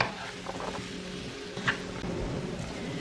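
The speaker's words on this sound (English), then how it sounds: "The cumin seeds are now spluttering, so I will add the finely chopped onions and fry this till the onions caramelize and turn light brown" Chopped onions dropped into hot oil with spluttering cumin seeds in a pan, giving a steady soft sizzle with a brief clatter of stirring midway.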